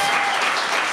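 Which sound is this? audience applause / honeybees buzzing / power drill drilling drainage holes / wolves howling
audience applause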